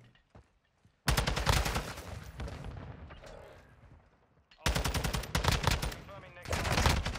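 Loud bursts of automatic gunfire in Modern Warfare 2 ranked multiplayer, a dense volley after a short quiet start, easing off, then another sharp, rapid burst near the end.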